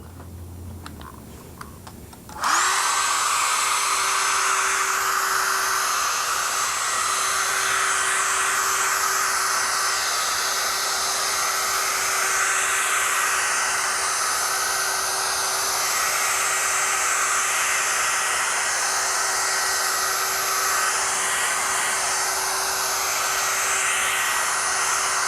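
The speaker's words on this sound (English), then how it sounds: "you can turn it on high right away and just dry it for a second" After a brief quiet moment, a hair dryer switches on high and runs loud and steady drying a wet picture-framing mat, a constant airy roar with a high whine that never lets up.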